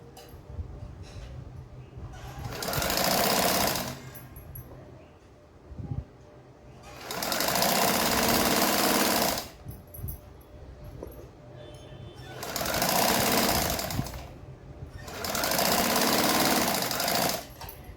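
Sewing machine stitching the sides of a 40-inch katori blouse, running in four loud, steady bursts of several seconds each, separated by short quiet pauses with faint handling noise.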